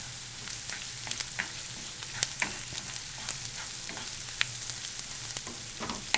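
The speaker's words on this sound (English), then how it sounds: "Mix that in with the garlic and the onions really well." Smoked salmon frying with garlic and onions in a pan for pasta al salmone affumicato gives a steady, moderately quiet sizzle with scattered sharp crackles and pops throughout, with no talking.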